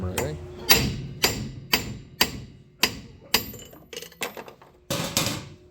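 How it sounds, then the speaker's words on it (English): Metal-on-metal hammer blows strike pry bars to free the flywheel of a Honda lawn mower engine, about a dozen sharp ringing hits in an uneven rhythm, close and loud, with a few lighter clinks between them. "Take this flywheel off, get the nut, we'll knock it off, put a couple pry bars and hammer it."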